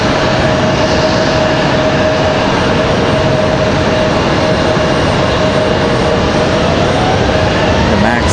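A Frontier Airbus A321neo jet rolls for takeoff at Raleigh-Durham airport, a loud continuous engine roar with a steady whining tone running through it.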